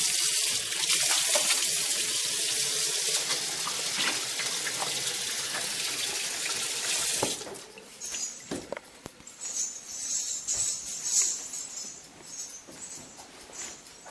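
A kitchen tap runs steadily while hands are washed under it during cooking, a loud close broadband gush for about seven seconds that then stops, leaving quieter splashes and handling noises.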